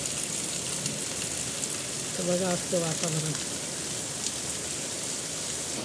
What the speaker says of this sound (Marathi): किती पाऊस पडत आहे